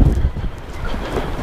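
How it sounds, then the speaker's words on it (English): Wind blowing hard across a seaside harbour wall on a breezy morning, a continuous rumbling buffet close to the microphone with no talk. "It's pretty windy this morning actually."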